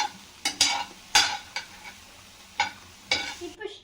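Broccoli and sesame seeds stirred in a hot pan, with a handful of separate spatula scrapes and soft sizzling bursts spaced unevenly over a few seconds, close and moderately loud, with no one speaking.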